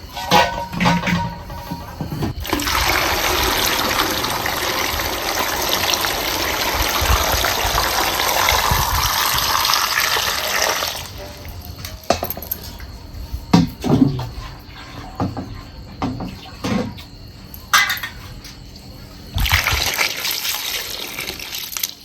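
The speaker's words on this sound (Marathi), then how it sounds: "आता काय करायचं ह्याच्यात पाणी वतायचं" Water gushes steadily into a pot for several seconds, then gives way to scattered clanks and splashes before another brief rush of pouring.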